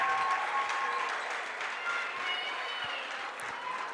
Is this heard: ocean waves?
no